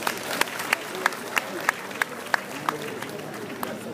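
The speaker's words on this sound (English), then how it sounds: "Give yourselves a round of applause." Audience at an awards night clapping in a sparse, evenly spaced beat, sharp individual claps ringing out over a murmur of talk and room noise.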